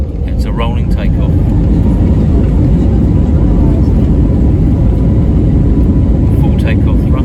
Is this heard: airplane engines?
yes